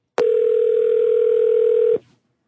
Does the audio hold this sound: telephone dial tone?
yes